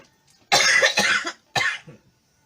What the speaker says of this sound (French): comme il fait chaud, ça commence à me faire tousser